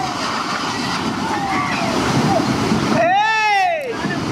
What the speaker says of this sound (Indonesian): Inilah detik-detik saat bangunan rumah warga hanyut diterjang banjir akibat luapan Sungai Batang Malalo